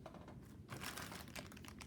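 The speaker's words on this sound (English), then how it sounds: "I'm just gonna use this plastic bag" A plastic bag crinkles and rustles up close, a continuous papery crackle with a louder burst in the middle, handled quietly with no talking.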